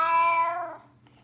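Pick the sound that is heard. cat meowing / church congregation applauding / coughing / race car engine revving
cat meowing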